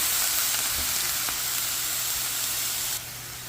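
Greek yogurt is stirred into a hot pan of spinach and mushroom marsala mix for lasagna, giving a steady, close, broadband sizzle that carries on evenly and then drops a little quieter near the end.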